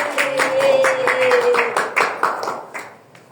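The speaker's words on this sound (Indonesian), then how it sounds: "beri tepuk tangan untuk kita sekali lagi." A small classroom group in a junior high school claps together in a short burst of fairly loud, uneven applause, thinning out toward the end.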